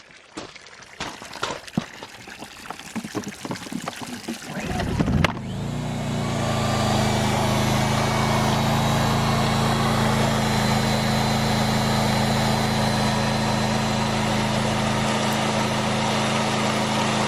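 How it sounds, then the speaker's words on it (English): A water pump starts up to fill a 500-gallon tank from a hydrant. After a few seconds of scattered knocks and handling, it kicks in with a loud, steady motor hum and rushing water that continues unbroken. "then I'm going to turn on the pump, which is right there"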